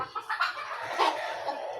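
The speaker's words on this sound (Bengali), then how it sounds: "আমাদের বাড়িতে নতুন একটি মুরগি বাচ্চা নিয়ে বাহির হয়েছে" A hen with eight newly hatched chicks clucks softly in short, close, repeated calls, with faint chirping mixed in and no talking.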